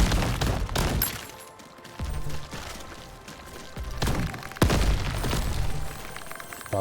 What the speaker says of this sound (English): Stop exploding near me, thank you.